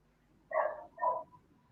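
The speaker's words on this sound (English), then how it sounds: "I see you have some dogs going on" A dog gives two short, sharp barks in quick succession, fairly close, over a quiet background.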